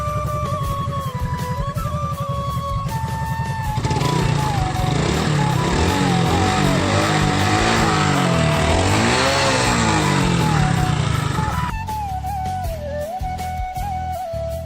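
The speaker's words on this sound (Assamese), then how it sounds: "ইঞ্জিনৰ মাতটো শুনক।" A Hero Glamour motorcycle engine runs steadily up close, its pitch swelling and falling as it is revved for several seconds before settling back to a loud idle.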